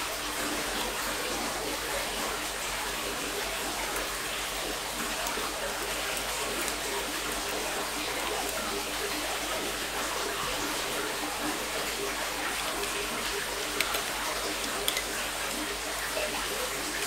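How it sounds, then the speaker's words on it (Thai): Steady rushing water of a waterfall near an outdoor spot where a meal of bamboo shoot curry and stir-fried clams is eaten, a constant broadband roar at even loudness throughout. "ฟังเสียงน้ำตกไปด้วยมีน้ำตกตรงนี้นะครับ"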